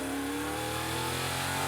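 NASCAR Euro Series race car engine held against its rev limiter, a loud, sustained, buzzing high-pitched whine with rapid stuttering pulses, close and steady throughout.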